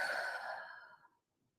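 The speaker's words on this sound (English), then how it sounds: "Breathe in through your nose. Exhale it out." A deep, breathy exhale during a guided relaxation breathing exercise, a single long sigh that starts strong and fades away over about a second, close and clear with no talking.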